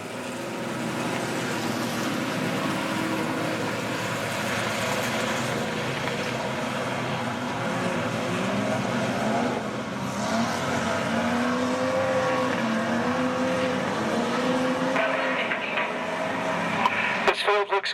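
Outlaw sedan race cars at Max Speedway during the first heat of the Australian Outlaw Sedan title, their engines droning steadily and loudly across a night-time dirt track, with a race announcer talking over the noise.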